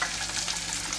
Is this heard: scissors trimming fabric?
no